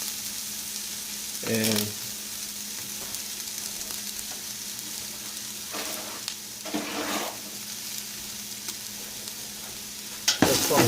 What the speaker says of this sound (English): I'm going to go ahead and take the aromatics and throw them in a little bit of oil